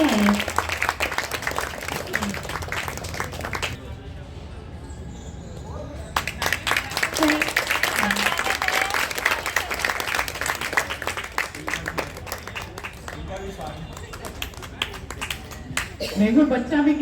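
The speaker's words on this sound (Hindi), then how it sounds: "बहुत जोरदार ताली" Audience applause breaks out at a Holi get-together at a Brahma Kumaris centre in PD Vihar, Delhi, as a guest is welcomed. Steady, moderately loud clapping runs through the middle with a voice talking over it.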